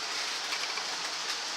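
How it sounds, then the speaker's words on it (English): Model trains run around a home layout, including the Spirit of Progress and Southern Aurora, producing a continuous close rolling rumble and hiss of wheels on track. "The trains you can see running around at the moment."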